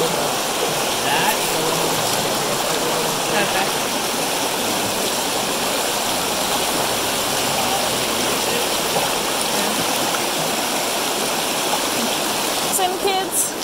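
Steady broadband rush of creek water flowing past a homestead property boundary, continuous and fairly close, with faint voices now and then in the background.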